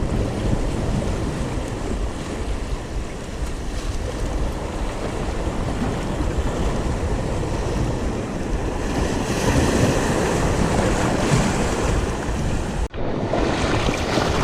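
Strong ocean waves and surf off the coast at Burgos, Pangasinan, a loud continuous roar mixed with heavy wind buffeting the microphone and a sudden sharp thump near the end, with no talking.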